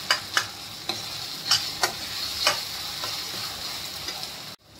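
Masala for chole sizzles steadily while it is stirred and roasted in a pan, with a soft frying hiss broken by sharp ticks and scrapes of a spoon at irregular intervals.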